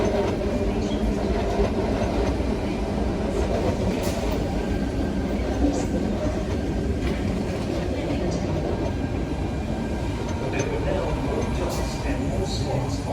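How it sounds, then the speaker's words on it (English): A Sydney Tangara suburban train at Central Station, heard as a steady low rumble of rolling rail cars with faint clickety-clack and occasional high squeals, continuous and fairly loud throughout with station ambience. "this Tangara is the first train that was going to Richmond since I started filming"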